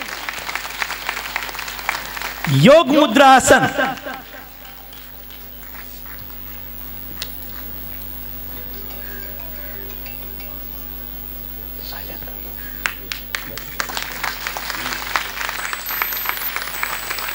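A yoga session audience breaks into a short burst of loud clapping, followed by quieter room sounds and an instructor speaking.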